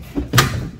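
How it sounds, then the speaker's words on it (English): A car door shuts once with a solid thump in a parked vehicle on Christmas Eve, close and fairly loud, followed by quiet cabin ambience. "Ooh, the door."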